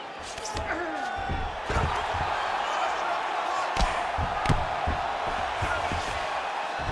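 Arena crowd at a UFC fight roars and cheers in a steady, dense wash, with sharp thuds and slaps from the fighters and bursts of commentary voices on top.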